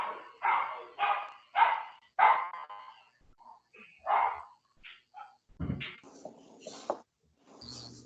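A dog barks indoors in a steady series of loud, close woofs, about a half dozen in quick succession, followed by softer yips, whines and scattered small noises.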